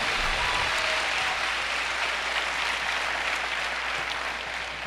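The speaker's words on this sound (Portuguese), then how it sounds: "Pode dar um aplauso a Jesus," Church congregation clapping together during a service, a dense steady wash of applause that stays loud and even for several seconds with no voices over it.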